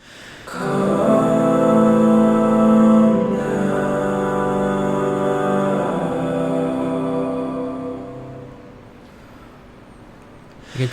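Layered, pitch-corrected vocal harmonies sustain as a smooth, stacked chord, loud and close, swelling in and then slowly fading out.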